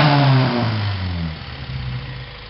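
Honda car engine with a coil-on-plug ignition system revving: a loud, close rev that peaks and then winds down in falling pitch, easing back toward idle with a slight rough blip near the end.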